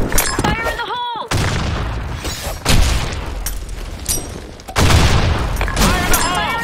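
Rapid gunfire and heavy grenade blasts in the shooter game Blackshot, loud and close, with bursts of shots, sharp booms and a short pause before the firing resumes.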